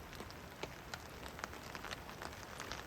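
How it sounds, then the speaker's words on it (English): Soft, steady patter of rain drumming on a tarp overhead at a mountain campsite, with scattered sharper drops against a constant hiss. "it's raining pretty steadily now."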